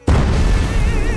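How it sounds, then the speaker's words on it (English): A staged explosion goes off with a sudden loud boom, followed by a sustained roaring, crackling rumble that fills the remainder, close and powerful, with no talk. "Let's end it with an explosion."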